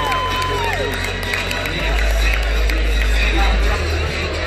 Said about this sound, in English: let's give both fighters a big round of applause as they win 6 full rounds of boxing